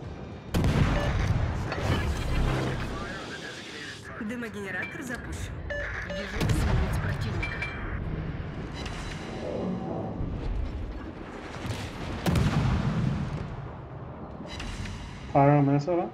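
Heavy naval gunfire from battleships in the World of Warships game, repeated deep booming salvos and rumbling explosions recurring every few seconds, with a player talking over the battle.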